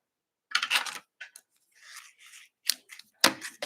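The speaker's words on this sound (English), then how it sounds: "this beautiful ribbon that matches that I'm going to go ahead and cut" Scissors snipping through ribbon for a stamped card project, a few crisp close cuts with soft rustling of the ribbon in between.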